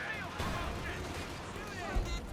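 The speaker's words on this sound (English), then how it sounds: "we've got artillery strike there in the looks of it" Artillery strikes and gunfire from the real-time strategy game Company of Heroes 2 rumble through a 2v2 match, with scattered distant blasts and a sharper impact near the end, under a commentator's voice.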